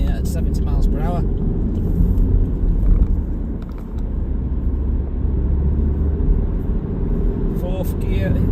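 Vauxhall Astra 1.6 CDTi diesel Sports Tourer cruising at 70 mph, a steady low road and engine rumble with wind noise throughout, while someone talks over it.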